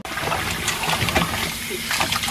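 Cut cassava pieces rinsed by hand in a basin of water in a home kitchen, a steady close wash of sloshing and trickling water running throughout with brief splashes.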